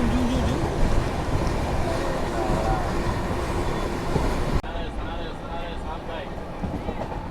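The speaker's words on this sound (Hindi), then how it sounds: "saffron Vande Bharat express" A saffron Vande Bharat Express rushes past close by, heard from aboard a sleeper coach, a loud, dense roar with rattling clatter that cuts off abruptly partway through, followed by quieter carriage rumble.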